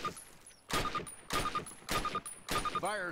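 Gunshots in a Call of Duty training range, four loud evenly spaced bursts of rapid fire, each ending with a short electronic beep, with game sounds between them.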